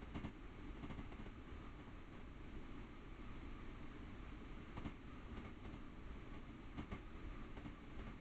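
Railroad car wheels clicking over rail joints in a steady, repeating clickety-clack, heard from inside a moving train as a constant low rumble with no talking.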